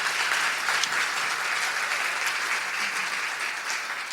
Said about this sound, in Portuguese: Vamos aplaudir o Senhor novamente aí, em nome de Jesus.